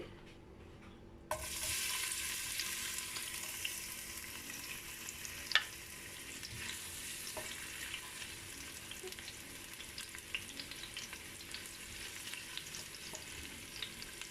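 Onion dropped into hot oil for a braised herbs dish, a sudden loud sizzle that settles into a steady frying hiss with occasional stirring clicks, no talking.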